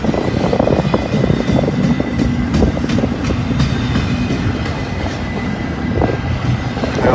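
A train rolls past on a cold, windy day, a loud, steady rumble of wheels and rail clatter holding up close for the whole stretch, with no voices.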